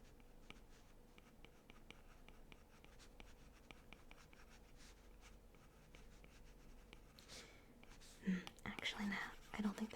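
Soft stylus scratching and scribbling on a tablet screen while sketching in Procreate, a steady quiet stream of faint strokes with a few louder handling rustles near the end.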